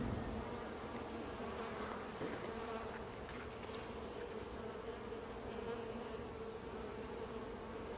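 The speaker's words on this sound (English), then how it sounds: "these bees can work fast" Honeybees from an established colony with fresh comb hum in a dense, steady buzz that fills the whole span at close range, with no voices over it.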